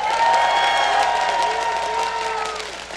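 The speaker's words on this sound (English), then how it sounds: "let's give them a cheer" An esports crowd at a League of Legends match cheers and applauds loudly in a large hall, with the roar fading gradually over a few seconds.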